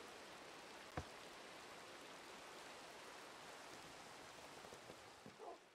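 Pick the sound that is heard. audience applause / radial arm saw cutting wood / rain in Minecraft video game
rain in Minecraft video game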